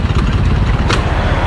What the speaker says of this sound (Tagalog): Umaandar makina pero hindi tumatakbo